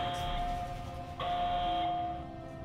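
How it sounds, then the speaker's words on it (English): Alarm tone in the puzzle video game Portal Stories: Mel, a steady electronic whine that cuts out briefly and resumes with a second tone, loud over a low rumbling background. "What's with the alarm?"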